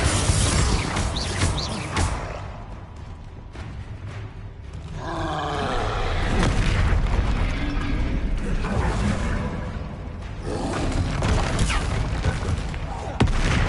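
Confringo and Bombarda spell blasts in Hogwarts Legacy erupt as loud booming bursts and roaring impacts, layered in a dense, continuous battle din with repeated explosive hits.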